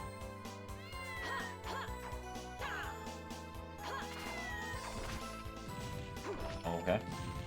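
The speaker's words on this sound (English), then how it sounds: "you just sit there and meow" A cat in the video game Castlevania: Order of Ecclesia meows several times amid busy game music and hitting sounds, the cries short and repeated rather than alone.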